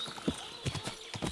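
Horse hooves clop on a road in the medieval video game Kingdom Come: Deliverance 2, with several distinct, close hoofbeats in an uneven walking rhythm and faint ambient noise beneath.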